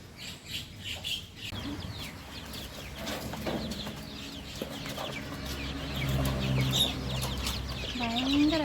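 Hens and chicks clucking and murmuring nearby, a steady chorus of short calls with occasional higher chirps from chicks, against faint outdoor background noise.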